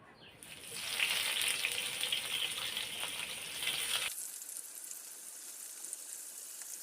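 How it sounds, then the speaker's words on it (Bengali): Pieces of fish going one by one into hot oil for a fish curry with sweet pumpkin, a loud broad sizzle that swells after the first second and then drops to a quieter hiss partway through. "গরম তেলে দিয়ে দিব একে একে মাছগুলো।"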